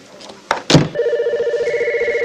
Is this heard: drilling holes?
no